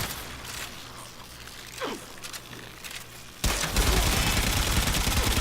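Mulus Quantus secondary fire in Warframe, quiet shots and mechanical clicks at first, then a sudden loud, sustained burst of dense rapid firing.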